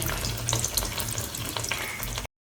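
Sweet jaggery appam batter fries in hot oil with a dense, close, continuous bubbling sizzle that cuts off abruptly near the end.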